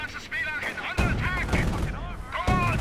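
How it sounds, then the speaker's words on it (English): Company of Heroes sniper shot on a World War II battlefield, sharp cracks standing out from ongoing gunfire, with a commentator talking over the action. "We see a sniper shot there."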